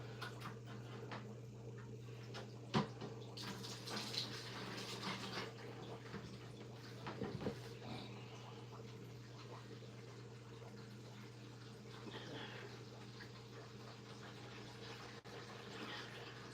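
Water drawn out of a nano aquarium through a siphon during a large water change, a steady low gurgling trickle with faint splashes, fairly quiet and continuous with no talking.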